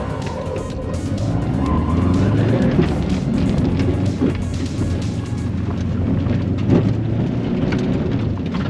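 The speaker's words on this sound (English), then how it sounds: "car's making all sorts of fun noises. Rubbing." Rally car being driven with its front spats coming off and a damaged mud flap, loud engine and tire roar inside the car with rubbing and scraping noises running continuously.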